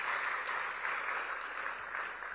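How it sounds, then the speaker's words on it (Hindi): Audience applause for performing artists at a cultural festival in a convention centre in Varanasi, a steady, dense wash of clapping from a large crowd, sustained and even, with no talk. "एक बार जोरदार तालियां इन सभी कलाकारों के लिए।"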